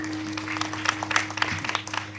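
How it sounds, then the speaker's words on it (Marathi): Audience clapping at a Marathi kirtan gathering, a steady patter of many hands in rising and falling bursts, with a low hum running underneath. "टाळी वाजवा, टाळी."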